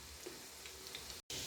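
Pumpkin kebabs fry in a pan with a steady close sizzle and small crackles, cut by a very brief gap near the end.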